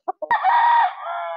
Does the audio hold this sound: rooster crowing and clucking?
yes